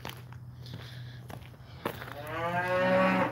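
A cow on a farm lets out a single loud, drawn-out moo in the final stretch, preceded by quieter shuffling and a low steady hum around the livestock pen.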